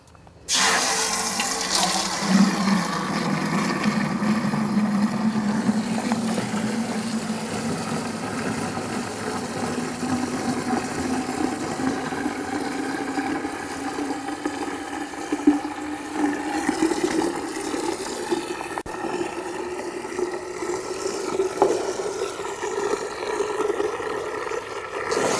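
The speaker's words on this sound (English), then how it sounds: "Watering can's full." Water running steadily from a tap into a garden watering can, a long continuous rushing pour whose tone slowly rises as the can fills, fairly close and alone without talk.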